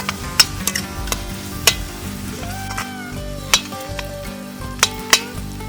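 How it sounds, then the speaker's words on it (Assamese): Chopped onions fry and sizzle in butter and oil in an outdoor kitchen while a utensil stirs them, with steady crackling broken by sharp scraping clinks against the pan throughout. "এতিয়া পিঁয়াজখিনি আমি পূৰা ৰঙা হোৱালৈকে ভাজি থাকিম।"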